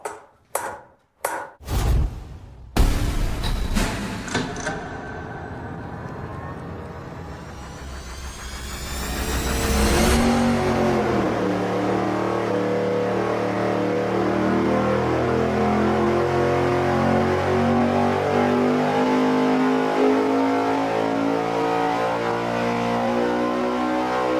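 A junkyard engine fitted with a larger 90-millimeter throttle body on a dyno cranks in sharp bursts, catches, then revs up steadily before holding a loud, sustained high-rpm roar for the rest of the pull.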